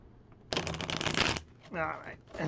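Tarot cards being shuffled up close in a loud, dense riffling burst of about a second, followed by softer riffles and a bridge-like flutter, with a voice speaking faintly underneath.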